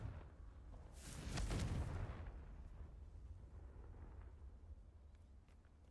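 A Confringo blasting spell goes off in Hogwarts Legacy with one deep rumbling blast that swells and fades into a low lingering roar, alone and without voices.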